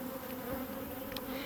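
A honeybee colony in a hive gives off a continuous, even buzzing hum, close and steady throughout, with no voices.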